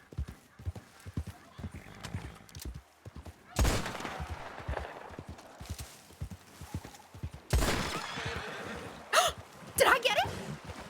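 Gunshots in a Red Dead Redemption 2 roleplay server, several sharp cracks standing out late over steady horse hoofbeats clip-clopping throughout, with people talking around them.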